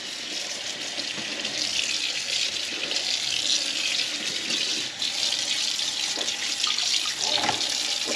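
Tap water runs steadily into a sink as dishes and other items are rinsed during a home cleaning session, a continuous close hiss with small splashes and clinks through the whole stretch.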